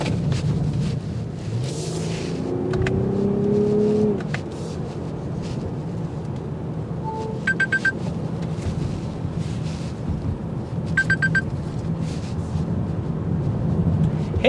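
A 2024 Lexus ES 350 F Sport with the dynamic handling package drives during a handling test, giving a steady low road and engine rumble with wind noise and a few quick clicking bursts inside the cabin.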